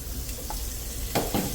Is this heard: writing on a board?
no